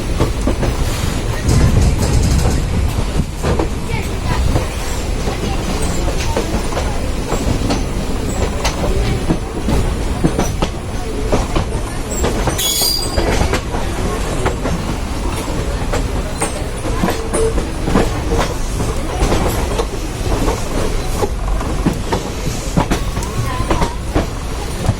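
Uttaranchal Sampark Kranti Express running on the tracks, a steady loud rumble with rhythmic clickety-clack from the wheels and a brief squeal midway, heard from on board throughout.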